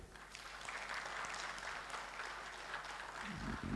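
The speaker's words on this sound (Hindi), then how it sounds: "तो एक बार ताली बजा दें।" An audience at a film festival masterclass breaks into steady applause, a sustained wash of clapping heard from within the room, with a brief low rumble near the end.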